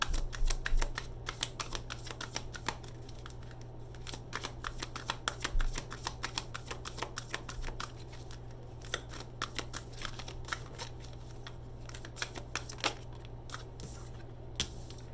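Tarot cards being shuffled and pulled from a deck, a dense run of soft papery flicks and snaps close by, steady throughout with a low constant hum underneath and no talking.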